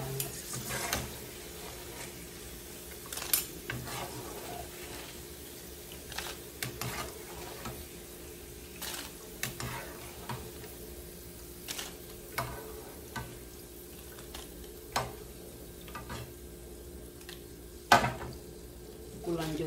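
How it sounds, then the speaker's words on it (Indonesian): Kerupuk crackers fry in a pan over a low gas flame in a home kitchen: a faint, steady sizzle broken by scattered clicks and scrapes of stirring. "Lihat teman-teman, lagi goreng kerupuk"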